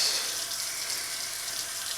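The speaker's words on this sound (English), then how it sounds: "so I'll turn on the water and get some of that out" Tap water runs steadily into a sink to rinse ink residue from a fountain pen, a continuous close hiss of splashing water with no pauses.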